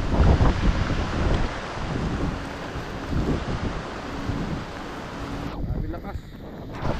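Typhoon wind roars in a constant heavy rush across an exposed microphone, with strong rain mixed in, loud and unbroken for the full stretch.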